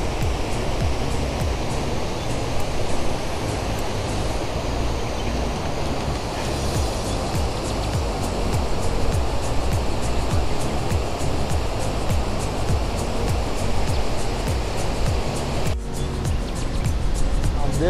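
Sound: water overflowing Sasoi dam

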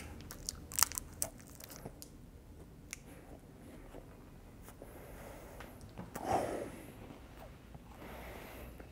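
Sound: biting and chewing a crunchy chocolate bar

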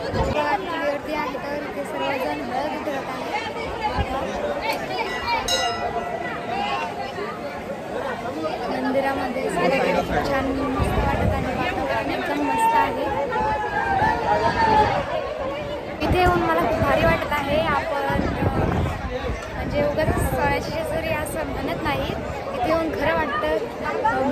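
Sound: crowd chatter at Khandoba temple, Jejuri

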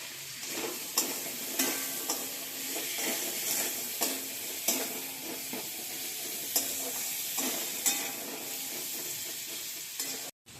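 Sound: elephant foot yam frying and being stirred in a pan

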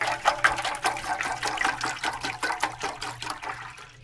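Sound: water filling a small container

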